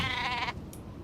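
A single short sheep bleat in the video game Nancy Drew: The Haunting of Castle Malloy, clear and close, followed by a quiet pause.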